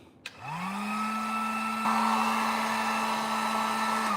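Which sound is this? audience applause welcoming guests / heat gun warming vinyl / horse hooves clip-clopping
heat gun warming vinyl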